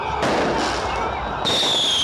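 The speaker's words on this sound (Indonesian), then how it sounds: "Kembang api ditembakkan ke udara" Fireworks fired into the air as a bus carries freed prisoners, heard as a dense, continuous crackling hiss with a loud burst near the end.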